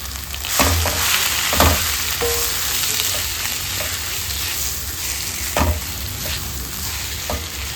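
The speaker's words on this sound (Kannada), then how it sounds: "ಮಾವಿನಕಾಯಿ ಹಾಕ್ಕೊಂಡು ಚೆಂದ ಫ್ರೈ ಮಾಡ್ಕೊಳ್ಳೋಣ." Grated raw mango frying and being stirred in a pan for mango chutney, a steady close sizzle with periodic scraping stir strokes throughout, no voices.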